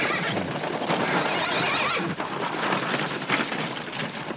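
Horses hitched to a wagon neigh and whinny amid a dense, loud rumble of hooves and wheels that runs steadily throughout, with no talk.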